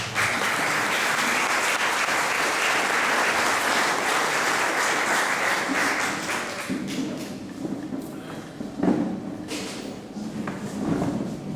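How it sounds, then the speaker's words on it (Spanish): A lecture audience at a history conference in Cartago breaks into strong, sustained applause that thins after about six seconds into scattered claps and a few soft thumps. "Vamos a recibirlo con un fuerte aplauso."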